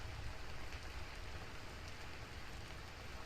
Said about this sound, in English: listen to the sound of the rain when you're under the canopy as well